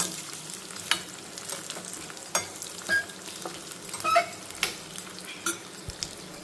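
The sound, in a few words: coconut pieces frying in a pan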